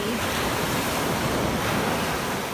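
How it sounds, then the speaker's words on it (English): Ocean surf washing up on a Sanibel Island beach at high tide, a steady loud roar of breaking waves with wind buffeting the microphone, close by and without speech. "I just have to watch the waves because a couple of them are coming up kind of high"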